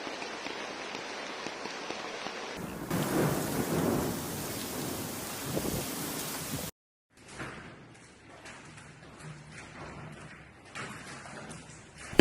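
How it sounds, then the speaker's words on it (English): Steady rain from the first downpour of a storm in Italy, with low rolling thunder rumbling under it. The sound comes in separate stretches that shift between heavier and lighter rainfall. "Eccoci qua, è arrivata la prima pioggia."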